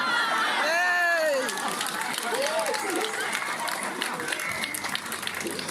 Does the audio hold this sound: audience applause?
yes